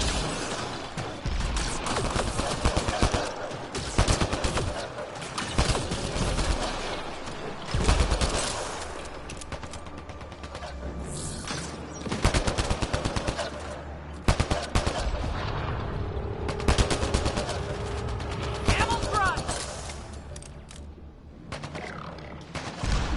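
Rapid gunfire from the video game Mass Effect, with bursts of automatic shots and single cracks repeating loudly throughout and brief heavier booms among them.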